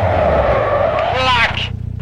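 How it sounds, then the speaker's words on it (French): Car skidding through a handbrake parking maneuver at a gymkhana contest, with the engine droning before a short, loud tire squeal. The engine then settles into a rough idle, and voices can be heard over it. "Parking au frein à main."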